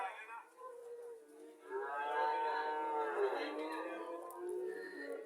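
A Friesian dairy cow gives a long, loud moo close by at a busy Comilla cattle market, the low drawn-out call rising and holding for several seconds over faint background murmur.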